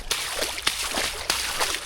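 Footsteps slosh and splash through a flooded section of a half-marathon route, several wet strides in a loose rhythm, close and moderately quiet.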